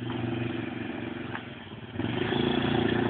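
A motorcycle engine runs at a steady mid-pitched idle with a clattery rumble, dipping briefly then rising again as it revs slightly, close by with no talking.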